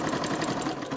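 A plush squirrel is stitched on a sewing machine, its motor whirring in a steady, dense buzz that runs continuously at close range with no talk.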